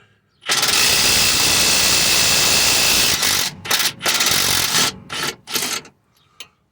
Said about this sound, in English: I had taken this one off already and tightened it with the impact wrench, so it may be super tight.